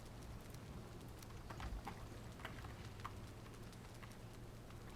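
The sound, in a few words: rain in Valheim video game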